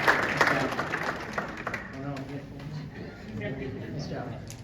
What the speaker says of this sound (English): can we just give a round of applause for these guys?